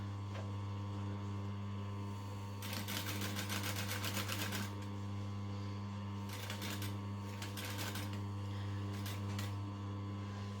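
A sewing machine stitches in the ditch of a circle skirt seam in several short bursts, a fast rattling whir lasting about two seconds at first, then briefer runs, over a steady electrical hum.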